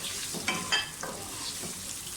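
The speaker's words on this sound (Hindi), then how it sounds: "प्याज अच्छी तरह से फ्राई कर लें।" Finely chopped onions frying in oil, a soft continuous sizzle with a couple of brief stirring knocks near the start.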